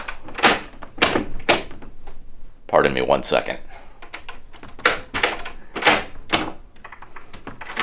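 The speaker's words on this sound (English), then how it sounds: "Other rooms have a door like this that doesn't want to seem to open." Rattling thumps and scrapes come from a sticking hotel room door at an old Wisconsin resort as it is forced open, close by and loud, with a person talking between the knocks.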